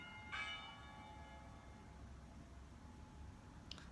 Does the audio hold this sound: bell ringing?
yes